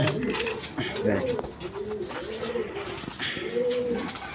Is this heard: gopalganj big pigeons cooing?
yes